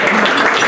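Brief burst of audience applause at an ice hockey press conference, dense steady clapping filling the whole moment.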